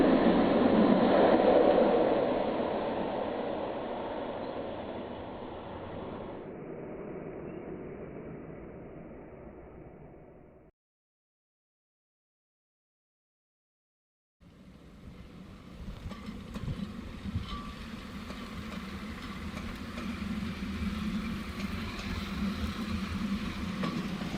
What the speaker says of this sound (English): another local train slams over the bridge.